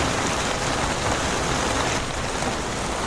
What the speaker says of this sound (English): Here comes the rain. Like cats and dogs.